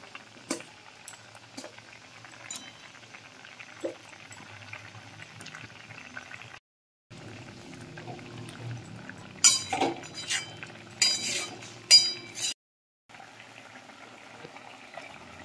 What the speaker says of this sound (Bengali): ঝোল বেশ ভালো করে ফুটে গেছে।